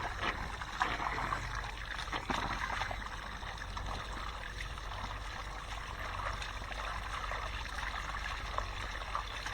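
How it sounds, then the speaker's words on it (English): Water pouring over muddy clay in a gold prospecting classifier, a steady splashing, trickling stream with irregular sloshes and drips, close and continuous without talk. "I'm going to put the water to it as well"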